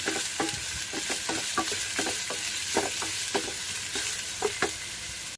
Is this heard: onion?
yes